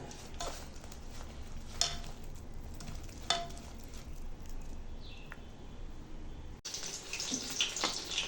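Water is poured a little at a time into gram flour batter mixed with some plain flour and baking soda, a faint, continuous trickle with soft stirring sounds that ends in a brief brighter splash.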